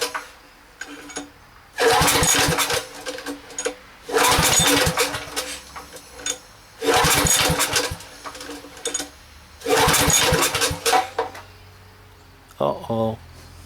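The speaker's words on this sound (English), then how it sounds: "Gas is on. That's on. Choke's on. Let's give her a crank, huh?" Coleman 5000 generator being cranked with the choke on, about five loud mechanical cranking bursts each lasting a second or so, separated by short pauses, close by, ending with a short rattling clatter.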